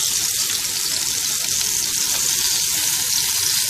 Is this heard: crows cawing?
no